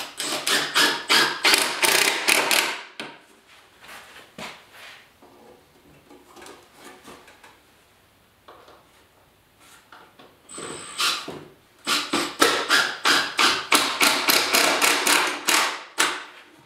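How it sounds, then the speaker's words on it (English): Rapid bursts of driving 3-inch deck screws into wood, loud and close, a long run at the start and another after a quieter stretch of handling noise. "I'm just using some 3-inch deck screws for putting this all together."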